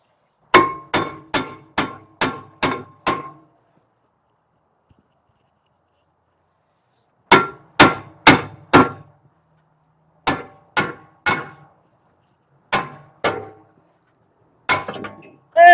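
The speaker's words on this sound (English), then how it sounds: "Alright, so now we're going to have to kind of hammer it off." Sharp metallic hammer strikes knock a stuck front brake rotor off a BMW Z3, ringing out in quick bursts of five or six blows, separated by pauses, loud and close with a clanging, resonant tone.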